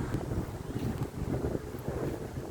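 Wind gusts buffet the microphone outdoors in Taguig, a continuous low rumbling roar that swells and dips for a few seconds with no voices.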